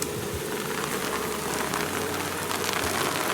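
Steady rain pours down outside, a dense, loud hiss of drops drumming on a nearby surface that stays constant throughout, with no talk.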